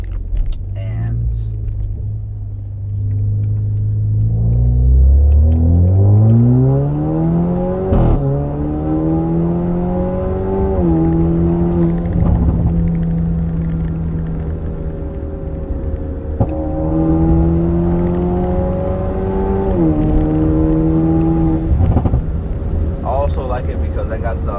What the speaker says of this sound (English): I'm gonna do a pull right here